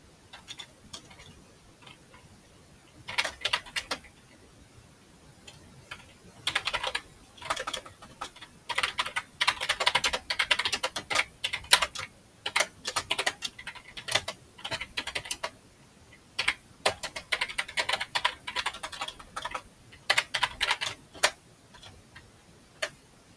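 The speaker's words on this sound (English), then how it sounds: "by typing in your question" Steady bursts of typing on a computer keyboard, quick clattering keystrokes coming in clusters separated by short pauses, close and fairly quiet with no talking.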